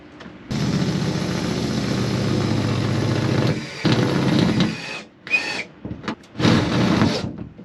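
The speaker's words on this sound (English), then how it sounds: "now we can make it bigger with this big drill bit" A large drill bit bores through the metal panel of a Peugeot Expert van, a loud continuous grinding whine for several seconds, then shorter bursts as the bit breaks through.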